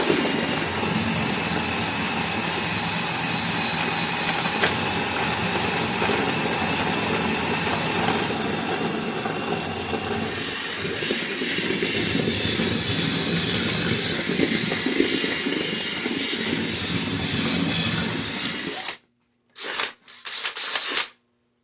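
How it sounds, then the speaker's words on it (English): A steady, loud whirring drone of a 20-volt cordless drill mixing pulp for homemade fire logs, running continuously for a long stretch, then cutting out in a few short stops and restarts near the end. "If you have a faster drill, obviously that works better."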